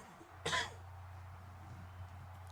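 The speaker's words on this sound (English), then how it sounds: "forgive me for all the coughing" A man coughs once, a short, sharp burst that stands out close and clear over a steady low electrical hum, followed by quiet.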